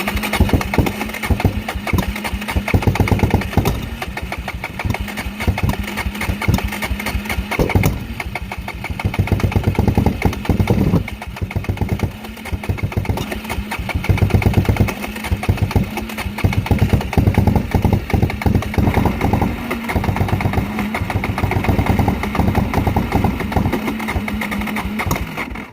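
Kawasaki KFX400 ATV engine running poorly, loud and close throughout, with an uneven, sputtering idle that keeps stumbling and catching again, no voices.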